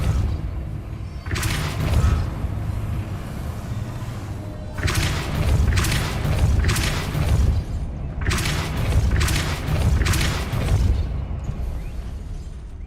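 Depulso force spell cast in the Hogwarts Legacy video game, a series of loud booming blasts in quick clusters, each a broad burst followed by a short lull.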